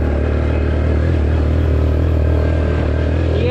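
A Suzuki Ozark ATV, running again after sitting for years, roars at full throttle with a loud, close, steady engine drone that climbs slightly in pitch as it gains speed.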